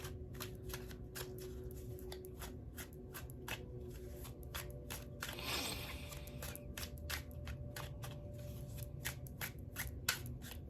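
A deck of cards being shuffled repeatedly, crisp riffling clicks in quick bursts with a longer riffle midway, close by over a low steady hum.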